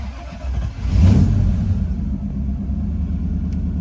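A 1972 Triumph Stag mk1 3.0 V8 with manual overdrive cranks and catches with a deep, loud rumbling burst, then quickly settles into a steady, low, even idle nearby.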